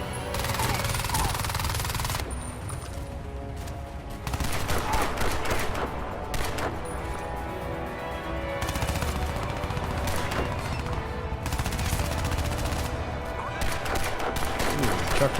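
The Feline, a rapid-firing gun in Crysis 2, rattles off long, dense automatic bursts with brief gaps, loud and close amid battle noise.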